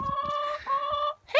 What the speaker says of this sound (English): Our four little chickens.